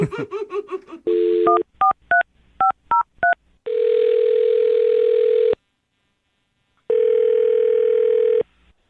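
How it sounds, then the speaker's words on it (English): A quick laugh, then a rapid run of touch-tone beeps, followed by a long steady dial tone, a short silence, and the tone again. "I'll dial her phone number right now and get her on the phone then"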